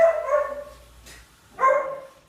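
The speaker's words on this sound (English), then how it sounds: "No, that is Libby barking." Border collies barking close by, two short bursts of barks separated by a brief pause, loud and clear with no talk over them.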